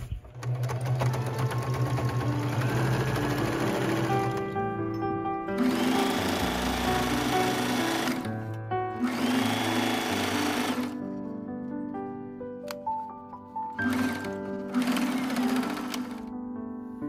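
A sewing machine stitching Japanese fabric into a double-sided table runner. A close, steady motor whir with rapid needle chatter runs in several long bursts separated by short pauses, with no talking.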